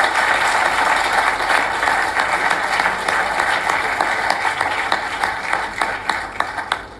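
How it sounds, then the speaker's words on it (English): Audience applause for four pitch teams at an event, a sustained crowd of clapping hands that holds steady and then thins out toward the end into a few separate louder claps. "let's give them one more round of applause for their efforts"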